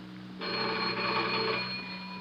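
A telephone bell rings in one sustained burst, fairly close and clear over a low steady hum, then stops.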